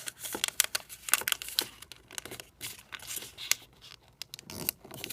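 Sheet of paper folded into thirds for an origami C-3PO figure, with dense close crinkling and crisp creasing rustles in quick irregular bursts throughout, no voices.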